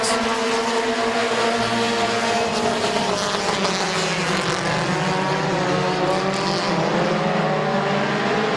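Race cars lapping Midvale Speedway, a loud continuous engine roar with layered droning tones holding steady throughout, close and dense with no pause.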